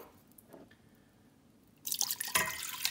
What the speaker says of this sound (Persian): 2 لیوان آب داشتیم، میریزم داخل قابلمه